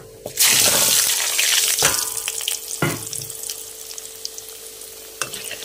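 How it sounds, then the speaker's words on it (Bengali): Potatoes dropped into hot oil with black cumin and white cumin, a sudden loud burst of sizzling that settles into a steady fry, punctuated by a few sharp stirring knocks. "আলুগুলো ভেজে নেব।"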